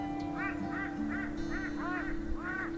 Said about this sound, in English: I wish these birds would stop staring at me.